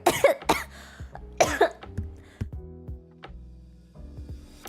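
A few sharp, harsh coughs close to the microphone, in two quick bursts, followed by quieter rustling and softer throat noises.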